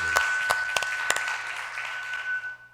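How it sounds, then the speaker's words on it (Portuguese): A church congregation applauding during a worship service, with a dense wash of clapping that fades out toward the end, a few sharper claps standing out and a faint sustained tone underneath. "Vamos aplaudir o Senhor mais uma vez?"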